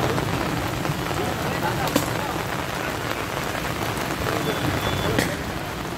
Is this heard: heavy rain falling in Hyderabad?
yes